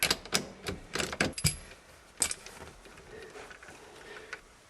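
A loosened 21mm steering wheel bolt is worked off a 1997 Blazer. Quick bursts of sharp metallic clicks and ratcheting taps come first, then sparser, fainter ticks, all close by and fairly quiet.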